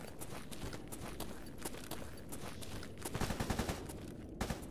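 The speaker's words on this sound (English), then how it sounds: "Oh, that's gunshots" Faint gunfire from the video game S.T.A.L.K.E.R. crackles in the distance, with a quick run of rapid shots in the second half over a low background rumble.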